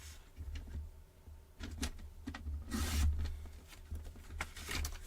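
Paper cutter or scissors slicing cardstock for a stamped paper craft project, giving short scraping, sliding cuts in several quick bursts at close range with no talking.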